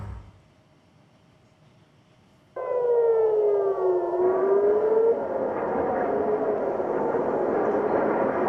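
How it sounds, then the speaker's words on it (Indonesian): After a quiet start, an air raid siren in Tel Aviv abruptly sounds and rises and falls, joined by others into a sustained, loud, layered wail that continues to the end. "Sirine meraung-raung di seluruh Tel Aviv"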